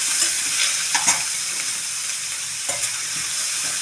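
Chopped onion, green chili and curry leaves fry in hot oil, giving a steady close sizzle with a few brief stirring scrapes and clicks.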